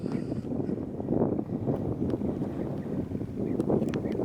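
Steady low wind rumble buffets the microphone outdoors on the coast at Blue Lagoon, Paphos, Cyprus, a continuous blustery roar with faint higher hiss, no voices.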